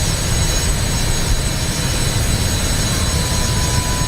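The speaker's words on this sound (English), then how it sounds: "Listen to that engine noise, ladies and gentlemen." Jet engines in Microsoft Flight Simulator during a climb produce a steady, loud broadband roar with a deep rumble and a faint high whine, continuous and unbroken throughout.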